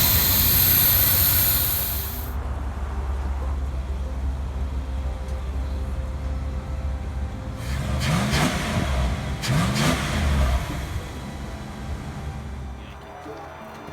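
A truck engine with a melted throttle body idles with a steady, low rumble after a brief louder burst. Two quick revs swell it midway, then it settles back to idle, with occasional voices nearby.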